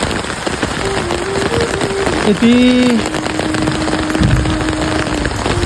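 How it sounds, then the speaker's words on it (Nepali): Heavy rain falls steadily on a hut, a loud continuous wash of drops throughout, with a person briefly speaking over it and a faint tonal whine in the background. "भारी वर्षा भइरहेको छ"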